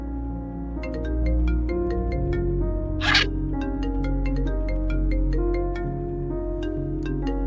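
A synthetic ringtone melody repeats steadily with bright electronic notes, fairly loud and uninterrupted, with one brief breathy burst partway through.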